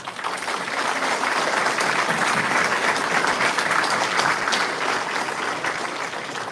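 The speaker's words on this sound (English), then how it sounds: "I'd like to give the instructors and staff a round of applause, please." A graduation ceremony audience applauds instructors and staff, a dense, even wash of clapping that swells quickly and holds steady and loud throughout, with no talking.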